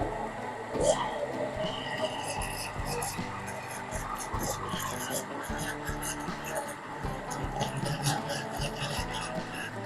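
An electric mixer grinder runs continuously, blending a khoya and date milkshake as milk is added, giving a steady, fairly loud grinding rasp with small rattles throughout.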